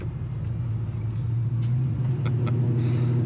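A 1986 Chevy K10 pickup's engine drones loud and steady with its carburetor secondaries open, a deep continuous rumble with faint higher rattles on top.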